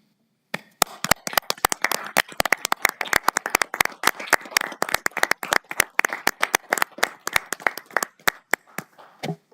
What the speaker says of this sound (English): Put your hands together so that we can applaud to their recognition.